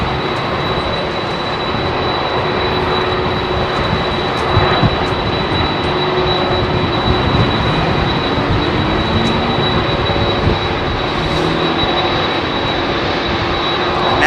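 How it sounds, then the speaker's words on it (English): A Vietnam Airlines Boeing 787 jet departs runway 27R at London Heathrow, its engines a loud, steady broadband roar that holds evenly throughout with no voices. "Beautiful Vietnam 787."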